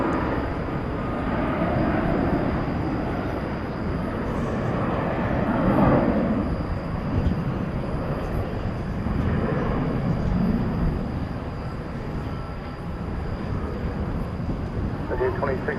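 A 1993-built aircraft at DFW Airport makes a sustained low engine rumble that swells and fades over a quarter minute, with a voice talking over it.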